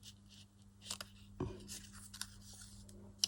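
Scissors snip once through a paper collage strip for a book-page craft project: a crisp, close cut near the middle, with faint paper rustling and handling before and after.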